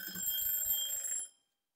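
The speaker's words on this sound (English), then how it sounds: "Let me reset the timer." A timer rings with a bright, steady, bell-like buzz for just over a second, then cuts off abruptly, leaving silence. Faint low thumps sit underneath the ringing.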